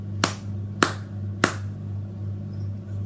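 Three sharp hand claps, evenly spaced about half a second apart, close and distinct over a steady low hum, then quiet; demonstrated for a patient with aphasia to imitate.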